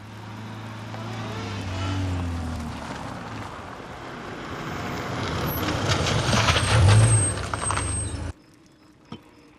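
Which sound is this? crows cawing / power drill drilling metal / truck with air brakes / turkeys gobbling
truck with air brakes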